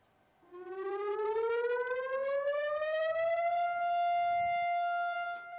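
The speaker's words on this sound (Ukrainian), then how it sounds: "Протягом двох хвилин, що лунає сирена" A long wailing civil defense siren rises steadily in pitch and then holds a loud sustained tone, heard alone.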